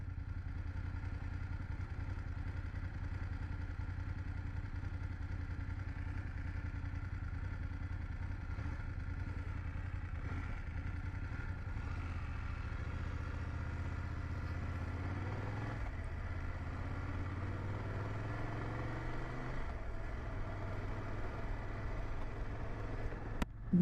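A 2024 BMW F 800GS motorcycle idling close by, its engine giving a steady, low, throbby burble with light mechanical clatter and a slight shift in pitch partway through.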